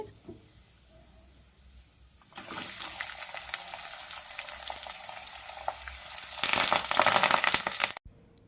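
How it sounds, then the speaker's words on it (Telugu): Mustard and cumin tempering seeds, dried red chilies, chopped onion and curry leaves drop into hot oil and burst into a loud, crackling sizzle that swells near the end, then cuts off abruptly after a quiet start. "తగినంత ఆయిల్ వేసుకున్న తర్వాత తాలింపు గింజలు ఎండుమిరపకాయలు కట్ చేసిన ఉల్లిపాయ ముక్కలు కరివేపాకు వన్ బై వన్ వేసుకోవాలి"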